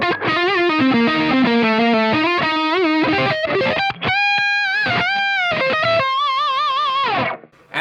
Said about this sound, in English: And we can turn the treble right down to get more of a smooth lead kind of thing.